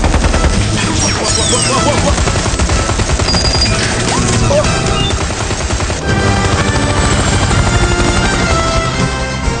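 A helicopter flies loudly and continuously throughout, its steady roar blended with a dense, busy mix of other sounds in a comedic scene, and there is no clear speech.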